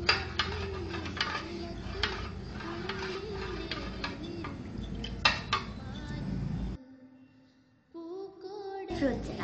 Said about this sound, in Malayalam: ഇനി നമുക്ക് സാബുനരി നന്നായി മിക്സ് ചെയ്യാം.